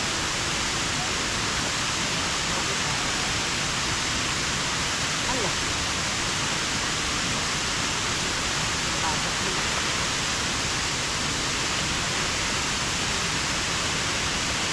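Cambanog Falls in Ronda, Cebu pours with a dense, unbroken roar of falling water, loud and steady at close range, with no clear voices standing out.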